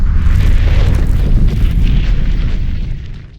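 Fireworks explode at a Loy Krathong festival in Chonburi as a continuous run of loud, close, deep booms that rumble on and fade slightly at the end.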